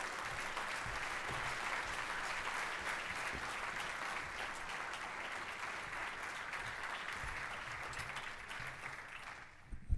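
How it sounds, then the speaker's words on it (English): Sustained audience applause welcoming a U.S. senator to the stage at a keynote event, a steady dense clapping wash lasting about ten seconds before tapering off, with no talk over it. "it's worth 3 rounds of applause for the senator, and this will be the third."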